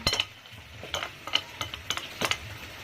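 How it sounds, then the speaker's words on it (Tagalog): Century tuna sisig ingredients being mixed in a pan: a spoon scrapes and taps in a steady rhythm of short strokes over a faint sizzle, close and moderately loud. "Then mix all together."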